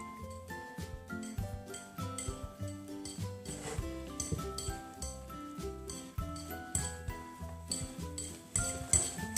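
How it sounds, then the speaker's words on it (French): Beaten eggs being whisked into crêpe batter, a rapid rhythmic clatter of a metal whisk knocking against the bowl, close and continuous with bright clinking taps. "je vais venir prendre le fouet et je vais fouetter"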